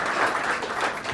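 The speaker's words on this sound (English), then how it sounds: "You can give her a round of applause." Rotary club members give a round of applause for a club member, a steady wash of many hands clapping that holds at an even level throughout the short moment.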